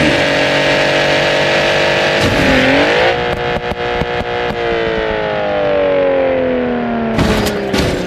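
A BMW car engine in BeamNG.drive revs loudly and close, its pitch climbing and falling through gear changes, with a burst of sharp clatter near the end.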